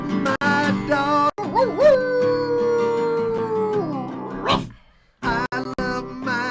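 A long, wavering dog howl rises and falls for several seconds during a live song performance, followed by a brief gap and a few short, sharp yelps.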